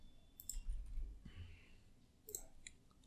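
A single sharp computer mouse click on a Windows 11 PC, quick and close, heard alone in a quiet room with a second faint click-like tick later.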